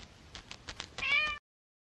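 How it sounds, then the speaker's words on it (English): A black cat meows a single close, drawn-out call, preceded by faint short sounds and followed by silence. "The cat is black."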